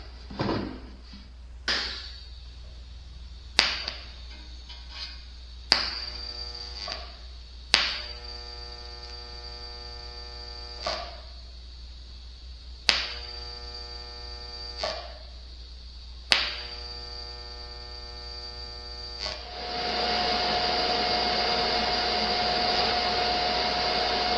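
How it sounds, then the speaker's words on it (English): Tack welding on a part for an Indian Larry tribute motorcycle produces a series of short, buzzing weld bursts with sharp starts, separated by pauses, and then a steady broadband roar for the final seconds. "I'll just tack weld it along the bottom line here"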